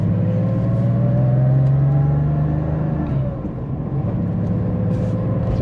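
A Porsche Carrera 3.2 engine drones steadily while driving in gear, a loud, close, low hum that eases off slightly near the end.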